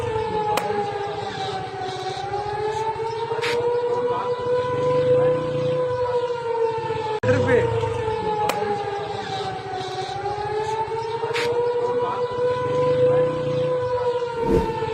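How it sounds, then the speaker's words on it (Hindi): A distant air raid siren in Lahore rises and falls slowly in long sweeping wails, steady over a low background hum with occasional faint clicks. "उधर लाहौर में लगातार जंगी सायरन, अलर्ट सायरन सुनाई दे रहे हैं"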